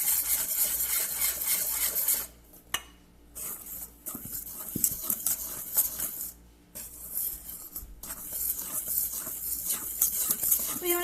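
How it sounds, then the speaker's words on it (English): A whisk scrapes steadily through flour and cocoa powder in a bowl while making devil's food cake, with continuous close stirring and light clinks broken by a few short pauses. "Flour and cocoa powder. Just whisk."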